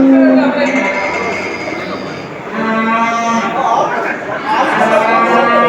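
Cattle moo repeatedly at a livestock market, several long low calls overlapping nearby, with people talking in the background.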